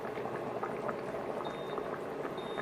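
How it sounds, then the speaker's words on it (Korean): Pork kimchi stew with bean sprouts boils hard in an uncovered pot, a steady dense bubbling and popping that runs continuously and close by with no talk. "뚜껑을 그냥 열어놓고 끓이시면 돼요. 한 3분 정도 끓이면은 콩나물이 비린내가 안 나요."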